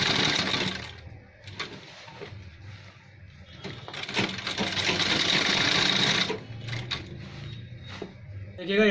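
A sewing machine runs in several bursts while stitching the sleeve seam of a men's shirt, loud and close, with short pauses and handling clatter between runs.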